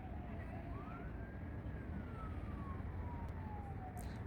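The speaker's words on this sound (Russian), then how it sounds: "Скорые ездят и машины срабатывают, сирены." Sirens of ambulances and emergency vehicles wail across Ashdod during a rocket attack, a rising and falling tone drifting at a distance over a steady roar of background noise, with car alarms going off.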